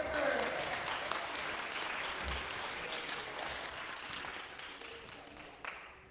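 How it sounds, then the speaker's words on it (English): A church congregation applauds the prophet with sustained clapping from many hands, steady and fairly loud before tapering slightly near the end, with scattered voices underneath. "give the prophet another round of applause"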